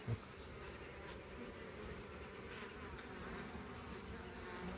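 Steady, close honeybee buzzing from an opened hive, a dense continuous hum with no talking.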